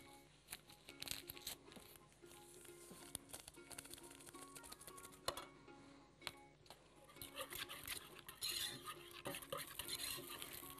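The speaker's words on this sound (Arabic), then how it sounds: "ونقلب مع كيس الفانيليا." A spoon scrapes and clinks steadily around a bowl, mixing a thick chocolate cake batter of milk, sugar and vanilla, with irregular knocks against the sides throughout.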